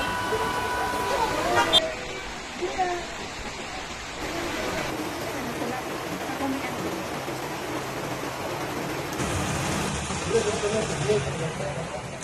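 Heavy rain from Hurricane Milton pours over flooded roads in Atlixco, Mexico, a dense, continuous hiss and wash of water that stays steady throughout, broken by a few abrupt shifts in tone.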